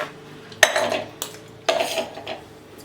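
A metal pressure cooker is picked up and set down in a home kitchen, giving three or four close, sharp clanks with short ringing tails against a quiet background.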